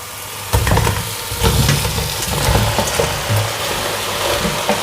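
Chicken pieces frying loudly in a pan with coconut oil and tomato paste, a close, busy sizzle punctuated by repeated scraping and stirring knocks.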